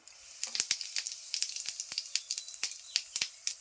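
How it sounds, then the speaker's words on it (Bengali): Cumin seeds spluttering in hot oil, dozens of sharp crackling pops in quick irregular succession over a faint hiss, close up and with no talking. "জিরা ফোড়ন দিলাম"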